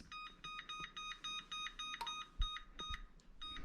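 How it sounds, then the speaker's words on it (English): Kitchen timer being set for ten minutes, giving a quick run of short, evenly spaced electronic beeps with a few faint button clicks underneath, close and fairly quiet. "And now we're going to set the timer for 10 minutes."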